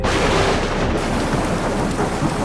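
Heavy rain pours steadily with a deep rumble of thunder rolling underneath, loud and continuous throughout with no voices.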